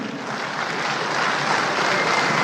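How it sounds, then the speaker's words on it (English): An audience at a regional stakeholder forum breaks into steady, dense applause that holds fairly loud and even, building slightly over a few seconds with no one speaking. "That deserves applause."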